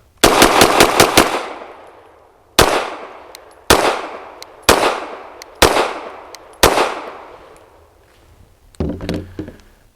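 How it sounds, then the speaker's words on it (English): A CZ 75 BD pistol fires a quick string of five sharp, loud shots, then five more spaced about a second apart, each with a ringing decay. A short muffled clatter follows at the end, with no voices. "Here we go, starting with the CZ75 BD."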